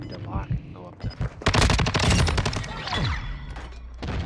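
Rapid automatic gunfire in Call of Duty: Modern Warfare II multiplayer, loud bursts of close shots rattling in quick rhythm, with brief pauses and a player talking between volleys.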